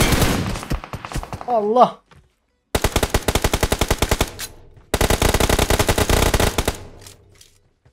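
Bursts of automatic gunfire in PUBG Mobile, three long rapid volleys separated by short pauses, loud and close, with a voice shouting briefly before the first burst.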